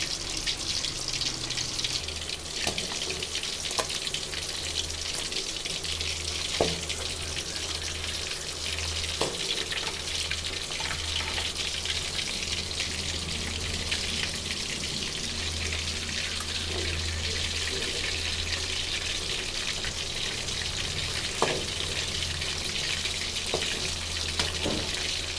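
Fish frying in a pan of oil, a steady broadband hiss with occasional sharp pops and crackles over a low hum, continuous and fairly close for the whole stretch.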